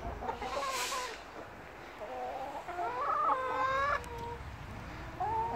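Several hens clucking and calling in a small flock in a farm yard, with repeated rising and falling clucks and short squawks, fairly close and steady over faint outdoor background.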